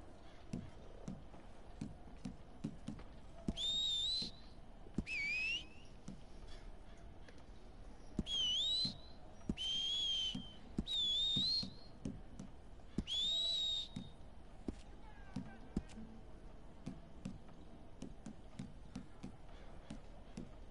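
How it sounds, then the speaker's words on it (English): A character whistles in short melodic bursts, about six separate phrases spaced apart, over quiet game ambience with faint footsteps in the Red Dead Online video game. "Whistle."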